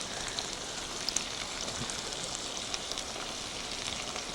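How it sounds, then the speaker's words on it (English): Food sizzling in a frying pan, a steady crackling hiss with a few sharp pops standing out, heard alone at moderate volume. "You can whip that frying pan around pretty good."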